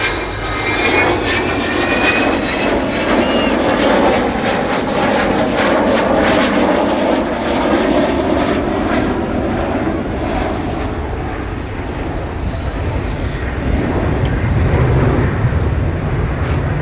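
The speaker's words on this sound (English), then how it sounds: "the Vulcan is very much your aircraft" Avro Vulcan bomber flying at the Southport Air Show, its jet engines giving a loud, sustained roar that swells and holds the whole time, with no speech audible.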